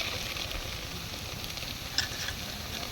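Chili paste and garam masala paste frying with browned onions in a pan for a broiler chicken and eggplant curry, a soft steady sizzle close by with a brief stir clink, no voices.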